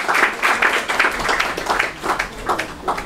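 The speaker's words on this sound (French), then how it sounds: "nous allons faire un petit applaudissement pour l'accueillir" A small gathering at a Messianic celebration group in Rouen applauds to welcome a guest, with rhythmic, fairly close clapping that pulses in waves.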